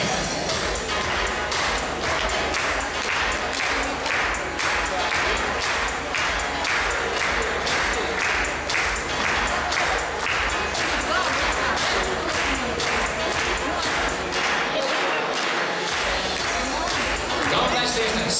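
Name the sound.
audience applause welcoming the dance judges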